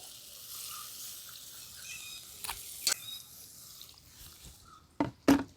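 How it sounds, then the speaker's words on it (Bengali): Water is poured into a hot pan of spiced potatoes, and a low sizzle breaks into a few sharp, hissing bursts as the water hits, loudest in two quick splashes at the end. "এরপর আমি দিয়ে দিচ্ছি পরিমাণ মতো জল"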